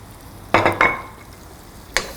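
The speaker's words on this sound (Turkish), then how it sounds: "soğanımızı güzelce pembeleşinceye kadar kavuruyoruz" Onions fry in foaming butter for pirpirim aşı as a utensil stirs the pan: three short scraping, sizzling strokes stand out close and distinct over a faint background sizzle.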